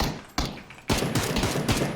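Bursts of rapid gunfire crackle in quick succession, loud and dense, like automatic weapons firing in the video game PUBG.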